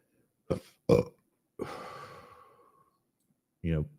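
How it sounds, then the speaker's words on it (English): Two short, close burps are followed by a long, breathy exhale like a sigh, then one more low, drawn-out belch, all loud and close against silence between them. "Burping doesn't even feel good anymore."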